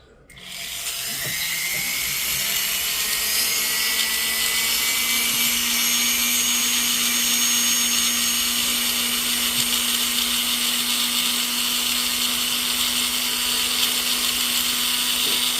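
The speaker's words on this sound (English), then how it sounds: "let's go ahead and flip to our other silicone wheel so we can get the outside and the sides" A rotary tool spins a silicone polishing wheel against a gold ring, a steady high-pitched whine that starts abruptly and holds loud and constant, with a low hum running underneath.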